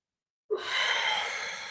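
A single deep, breathy exhale during a stretching workout outdoors at Joshua Tree, starting suddenly after silence and trailing off as a long, airy sigh close to the mic.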